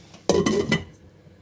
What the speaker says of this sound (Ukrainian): Накриваю кришкою.